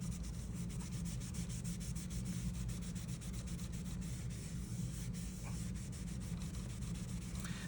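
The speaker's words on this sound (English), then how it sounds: "I'm gonna grab my cloth one more time just to rub around there" Cloth rubbing steadily over a handmade paper card, a soft continuous scuffing close by with no talking.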